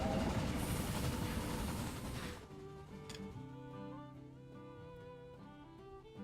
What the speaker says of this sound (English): there's a bunch of freight trains running around here too